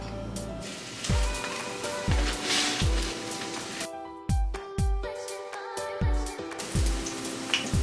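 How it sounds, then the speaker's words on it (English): Vegan crab cakes made with artichoke hearts fry in hot oil, a dense crackling sizzle that keeps going, broken by a series of sharp low thumps that repeat about once a second. "our oil is ready. I got 3 done. Let's go ahead and fry these bad boys up."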